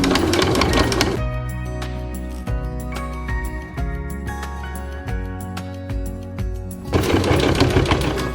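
A sewing machine stitches in the ditch along a picture frame on a placemat, whirring loudly at the start, slowing to a stuttering run of separate needle strokes, then speeding back up to a full whir at the end.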